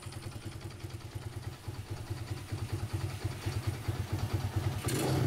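A Fury 125 motorcycle idling nearby with its carburetor mixture running slightly lean, a steady pulsing putter that grows a little rougher and louder toward the end.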